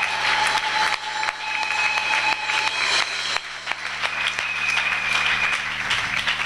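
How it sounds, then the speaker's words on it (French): Church congregation at a Sunday worship service applauding together, dense steady clapping with shouts rising over it, sustained loud throughout. "Acclamons très fort le Seigneur Jésus."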